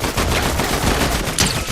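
Rapid automatic gunfire in a first-person shooter video game, a dense burst of loud cracking shots lasting under two seconds.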